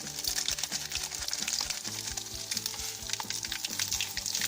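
Pork knuckle fries with vegetables in a cauldron over an open fire, giving a loud, steady, crackling sizzle close up with occasional stirring knocks and no voices.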